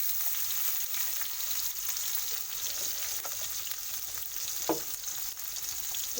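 Chopped onions frying in hot oil with dried red chillies and whole cumin for Bengali khichuri, a soft, even sizzle with a few spatula scrapes near the end and no talking.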